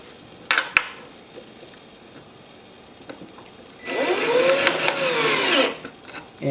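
A powered driver runs a screw into a metal bracket plate on a kitchen base end shelf, one rising and falling whir lasting about two seconds, after a few light taps and clicks, with no talking.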